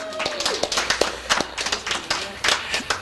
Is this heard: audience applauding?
yes